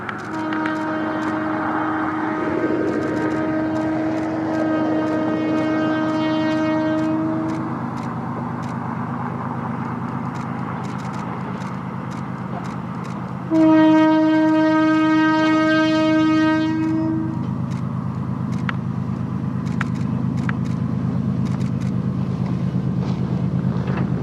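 A train with a snow dozer rumbles steadily by outside Big Stone City, South Dakota, with a long, loud horn blast, then a second, stronger blast over the continuous roar of wheels and churned snow.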